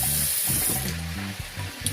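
Raw chicken pieces being rinsed under a running kitchen tap, a steady close splash of water hitting meat and the sink basin for the whole stretch.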